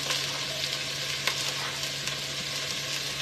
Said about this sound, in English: If it starts to sizzle, you know your pan is ready.